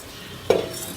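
Mustard seeds drop into hot oil in a pan for a Tamil fish curry, meen kulambu, setting off a sudden loud crackling sizzle halfway through that stays bright after a quiet lead-in.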